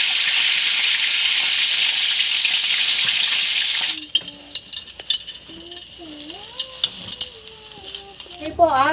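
Freshly caught fish frying in a pan gives a steady, loud sizzle for about four seconds, then cuts off, leaving quieter crackles under outdoor chatter and chirps.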